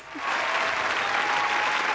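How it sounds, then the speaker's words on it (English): A round of applause erupts after a brief pause and continues as a steady, dense burst of clapping during a podcast recording. "I'm going to give myself a round of applause because I feel hype"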